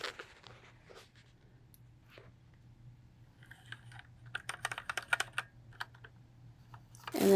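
Typing on a Target Heyday full-size wired keyboard fitted with white shine-through pudding keycaps: scattered soft clicks at first, then a denser run of quick keystrokes, close and fairly quiet over a low steady hum, ending in a louder rustle.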